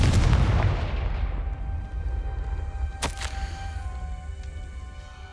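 A Confringo blasting spell explodes in the video game Hogwarts Legacy: one loud booming burst that fades slowly, followed by a sharp crack near the third second.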